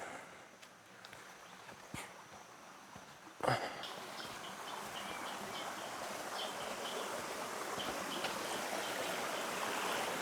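The river at Kbal Spean rushes in a steady, full broadband flow close by, with a sharp knock partway through, after which the water grows louder and brighter.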